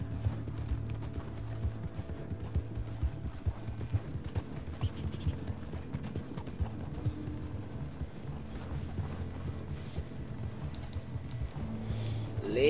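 A horse's hooves clop steadily and rhythmically in Red Dead Redemption 2, a continuous galloping patter mixed with low mechanical game rumble and no clear voices.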